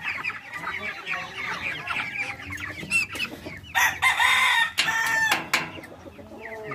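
Cobb chickens cluck and squawk busily nearby as they are moved into a larger coop, with overlapping calls that grow louder and sharper toward the middle.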